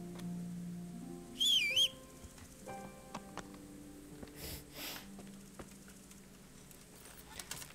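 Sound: whistling to call horse in video game Kingdom Come: Deliverance

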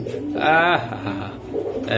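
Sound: pigeons cooing

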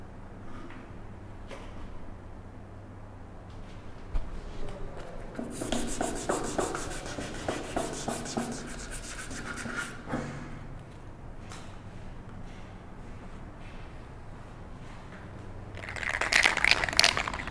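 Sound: sanding wooden tissue box lid with 400 grit sandpaper

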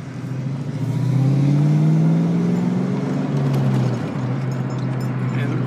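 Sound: Mustang 5.0 V8 accelerating

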